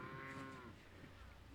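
Highland cattle on a tundra farm give a single drawn-out moo, loud and close, with no other sounds around it.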